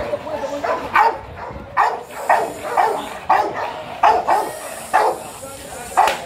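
A fierce guard dog at a Friday dog market barks repeatedly, about nine sharp, evenly spaced barks, loud and close, with people talking around it.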